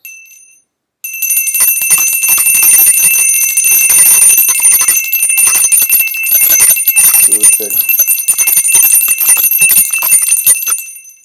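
A Timber and Crane Suzu brass bicycle bell rings right up close in a rapid, sustained run of bright metallic strikes lasting around ten seconds, loud and shimmering like an alarm clock, with a brief spoken phrase just before it starts.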